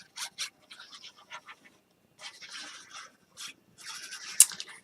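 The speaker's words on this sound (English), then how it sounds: "My dog is sniffing around here." A dog pants and sniffs in short, breathy bursts close to the microphone, coming in uneven clusters separated by brief quiet gaps, with a single sharp click near the end.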